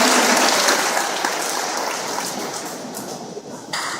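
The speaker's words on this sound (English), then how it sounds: "Give them a round of applause" Audience applause at a 2014 middle school promotion ceremony, a steady wash of many hands clapping that holds fairly loud and gradually thins toward the end, with a brief swell near the close.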